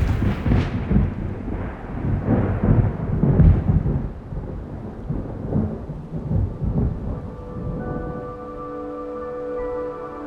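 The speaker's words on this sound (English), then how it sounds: "My first memory was a storm." A thunderstorm with deep rolling thunder rumbling over steady rain, loud and continuous throughout, with the rumbles swelling and fading before a softer, tonal stretch near the end.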